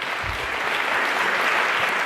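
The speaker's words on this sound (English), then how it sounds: "Let's have a round of applause for Jeff Bezos." Audience applause for Jeff Bezos at the Internet Association 2017 gala, a dense, steady burst of clapping from a large crowd, loud and sustained throughout with no talking.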